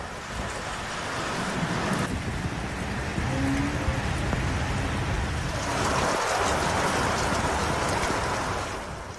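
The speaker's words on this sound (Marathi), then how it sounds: "मुंबईत सकाळच्या सुमारास पावसाचं आगमन झालं" Steady rain falling in Mumbai, a dense, even hiss of drops with a low rumble underneath, continuous and fairly loud throughout with no voices.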